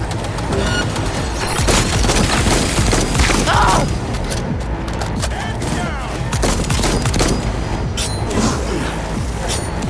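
Rapid bursts of gunfire from the video game Cyberpunk 2077, loud and sustained across the whole stretch with dense automatic volleys and heavy impacts, under occasional talk.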